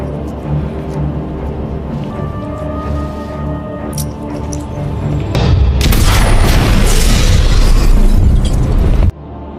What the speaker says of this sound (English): The apartment is then blown up by Smith and Slevin.